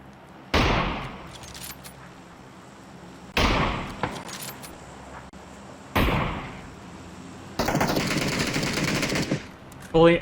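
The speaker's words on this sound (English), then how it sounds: "I've shot so many bullets at that number 3 and nothing hit" Gunfire in the battle royale video game PUBG: loud, close bursts of shots, each with a sharp onset and a decaying tail, followed by a longer sustained burst near the end, with no talking.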